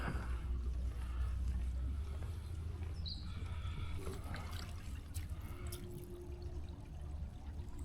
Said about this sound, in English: You can hear the water running over.